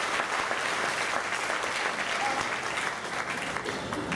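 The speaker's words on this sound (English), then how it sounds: "I really want you to get a nice round of applause." A full audience gives steady, sustained applause at a Hall of Fame induction ceremony, a continuous wash of clapping that holds at an even level the whole time.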